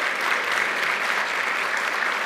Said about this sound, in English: big round of applause for all the students so far